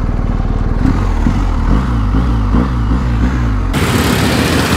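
BMW 1250 GS motorcycle engine running close and loud while parking, a throbbing low idle with rhythmic revving pulses, then the tone shifts abruptly near the end.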